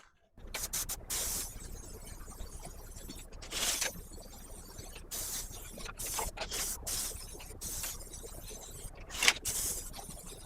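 Several short hissing bursts of a can of black Rust-Oleum enamel spray paint coating plastic and metal figurines, separated by brief pauses, close to the microphone with no talking.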